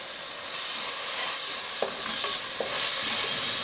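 Onion, green chili and ginger sauté in a pan with curry leaves for a Kerala-style prawn curry, giving a steady close sizzle with a few soft stirring scrapes and clicks, no talking.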